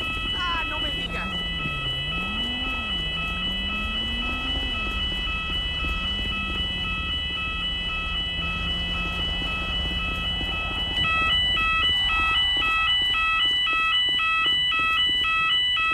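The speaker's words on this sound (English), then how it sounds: "So it's a false fire alarm, okay." A false fire alarm rings inside a London Underground station in GTA 5 with a London Fire Brigade mod, a steady electronic tone repeating throughout, a siren wailing low beneath it and voices talking over the top.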